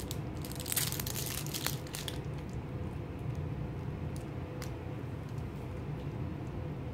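Close crunching bites and chewing on a crisp peanut butter protein bar, loudest early on, then softer munching over a low background hum.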